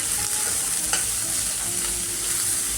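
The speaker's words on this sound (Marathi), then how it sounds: "आपली ती म मटकी ना तेलावर चांगली परतून झाली आहे" Sprouted matki moth beans with onion and asafoetida sautéing in hot oil for a Maharashtrian usal, a steady broadband sizzle with occasional stirring scrapes, close and continuous without talk.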